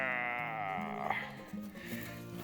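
Close, loud bleating from young five-month-old goats, a long wavering call followed by shorter broken cries running continuously through the moment.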